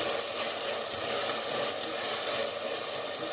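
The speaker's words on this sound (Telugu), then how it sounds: "ఇది పచ్చివాసన పోవాలి కాబట్టి ఇలా ఆయిల్లో ఫ్రై అయితేనే బాగుంటుంది" Masala paste sizzles steadily in hot oil in a home kitchen pan while chicken pulao is being prepared, a close, even frying hiss that runs through the whole stretch without a break and with no talk over it.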